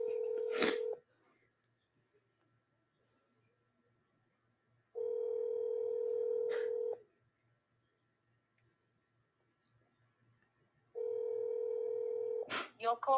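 A phone call in progress: an outgoing ringback tone pulses three times, each a steady two-second beep with long quiet gaps between, clear and close, with brief clicks and no talk over it.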